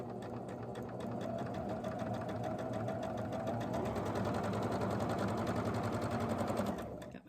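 A sewing machine runs steadily for about seven seconds, stitching corner to corner across a quilt block, with a continuous close whirring hum that stops abruptly at the end.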